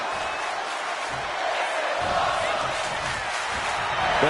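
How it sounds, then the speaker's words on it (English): A WWE wrestling arena crowd roars loudly in a continuous, dense wash of cheering that swells slightly toward the end, with commentary voices speaking over it. "The sound of this crowd is deafening, and he's asking for more"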